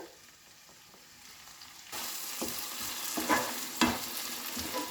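Tomato puree hits hot masala in a kadai for kadai paneer, a quiet simmer jumping to a bright sizzle, then spatula stirring scrapes and pops over the steady frying.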